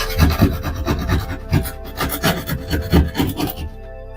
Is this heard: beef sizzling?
no